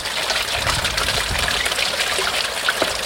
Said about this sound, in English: just give it a quick rinse around, just a quickie with a hose pipe